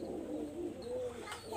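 A female Kamagar pigeon coos nearby in a low, soft, rolling call that repeats across a short stretch, with no talking over it.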